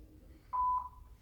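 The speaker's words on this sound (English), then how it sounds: "so there's the beep" A single short electronic beep, clear and steady against a quiet background.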